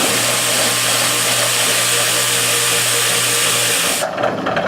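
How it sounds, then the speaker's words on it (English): A foot-switch-controlled sander grinds down a Les Paul guitar, giving a continuous, steady whirring hiss with a low hum that cuts off abruptly near the end. "So the sander is controlled by a foot switch and it turns slowly, about the speed of a potter's wheel."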